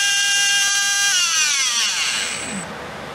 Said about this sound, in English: Seems like a torquey motor with some speeds too